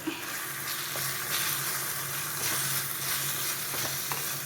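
Turmeric and coriander powder sizzle and fry in hot oil for a sardine curry, a steady close crackle with occasional stirring scrapes.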